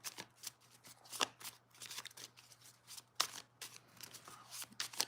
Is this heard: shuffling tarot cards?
yes